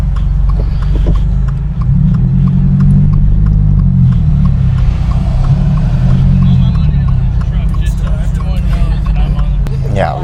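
A BMW X6 Competition and other cars idle at an outdoor car meet with a deep, steady engine rumble throughout, while people chat in the background.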